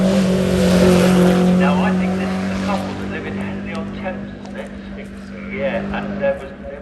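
Formula Ford racing car built years ago, running at the Shelsley Walsh hill climb, its engine droning loudly with a steady tone before fading off, heard under a commentator's talk.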